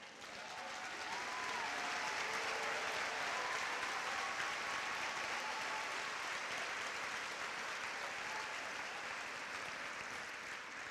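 A large school-district audience applauds its veteran staff at an opening-day gathering, with steady, sustained clapping that fills the whole stretch at a distance, with no voices over it.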